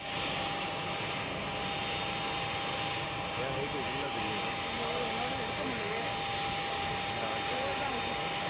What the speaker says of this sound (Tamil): மதுரை விமான நிலையத்தில் தனி விமானம் மூலம் வந்த தவிக தலைவர் விஜய்